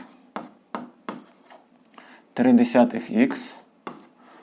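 A pen or chalk writes a math expression by hand for a 5th-grade math exercise. Short, scratchy strokes come in a loose rhythm, close by, and a voice talks over part of the writing.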